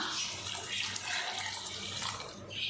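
Water pours steadily into a cooking pot of mutton with a close, splashing rush, briefly easing before surging again near the end.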